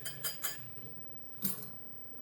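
Flour, baking soda, baking powder and salt being mixed in a bowl for chocolate chip cookies, a few quick utensil clinks and scrapes against the bowl, close but quiet.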